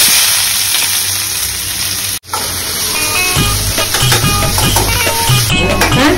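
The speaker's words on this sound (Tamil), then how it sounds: "ஸோ இப்போ எண்ணெய் சூடு வந்துடுச்சு, நம்ம வந்து ஆல்ரெடி வெட்டி வச்ச ஆனியனை விலை சேர்த்துக்கலாம்." Chopped onion goes into hot oil in a pan, setting off a loud, close, sputtering sizzle that cuts out briefly and then returns in a rougher, crackling rush.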